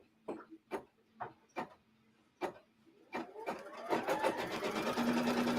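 A sewing machine stitches a quilt square in short separate bursts, a few quick clattering runs, then settles into continuous, steady stitching that grows louder.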